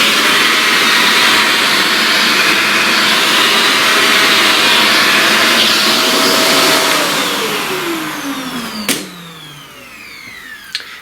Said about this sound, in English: or let's vacuum.